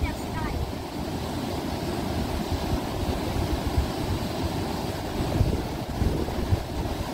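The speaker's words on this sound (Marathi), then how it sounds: "पाण्याचं स्पीड बघा ना केवढं आहे." A fast-flowing village river swollen by monsoon rain rushes as a steady, loud roar of turbulent water, with gusty wind buffeting the microphone throughout.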